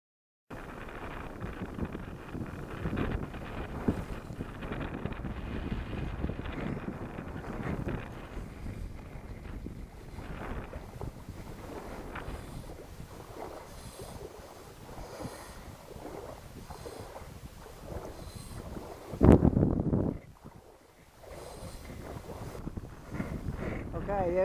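Wind blows steadily across a lake at Sauðlauksdalur near Patreksfjörður, a broad rumbling roar of gusts buffeting the microphone throughout, with one sharp louder gust near the end.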